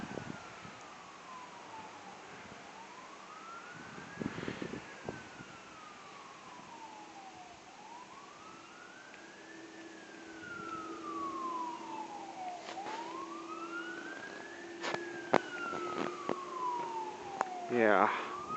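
An emergency vehicle siren wails in slow rising and falling sweeps, moderately distant, over gusty wind noise, with a closer burst of yelping siren near the end.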